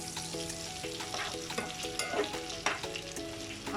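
Chickpeas and paneer tossed and charring in a pan, a close, busy sizzle with stirring scrapes, over a quiet musical background.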